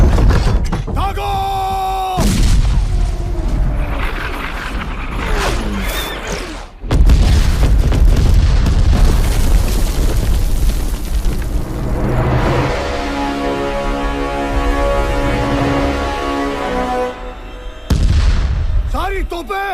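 Cannon artillery fire in an action war film: heavy booms and explosions with debris and clattering, sustained and loud, layered with dramatic music and shouted dialogue.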